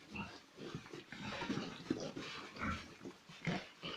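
Piglets grunting and squealing softly in short, overlapping bursts, a busy low chorus close by without any talk.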